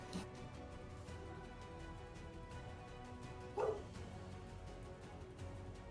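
A puppy gives one short, fairly close bark partway through an otherwise quiet indoor stretch with a faint background hum.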